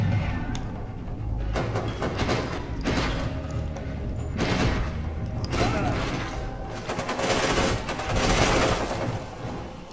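Sustained gunfire in the shooter video game F.E.A.R. 2, dense bursts of automatic fire and mechanical clatter rolling continuously and loudly over the whole stretch.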